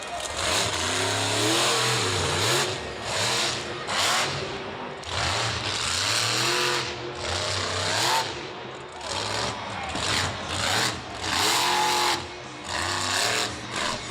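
The Exterminator monster truck revs its engine at Monster Jam Jacksonville 2014, loud repeated throttle surges rising and falling over an arena roar, with a commentator talking over it.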